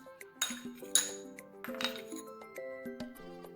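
Glassy clinks and taps of a utensil against a bowl as vegetable stock, lime juice, soy sauce, sugar, garlic and cornstarch are stirred together, a run of bright rhythmic chimes, close and clear with no talk.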